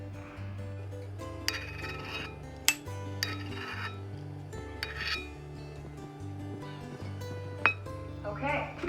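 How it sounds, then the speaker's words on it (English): A metal spoon scraping and clinking against a pot of boiling homemade blueberry jam, with irregular sharp clinks and rasping scrapes under background kitchen noise and some talking. "I'm just going to use my spoon to scrape the foam off the top."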